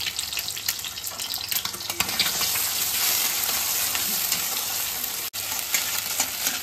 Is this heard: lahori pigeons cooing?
no